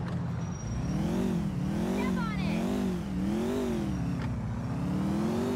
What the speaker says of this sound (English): Hear the rumble of that engine.